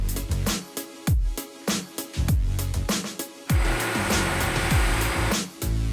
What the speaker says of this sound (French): La première étape consiste en une préparation du support, c'est-à-dire le passage de la monobrosse avec une aspiration soignée.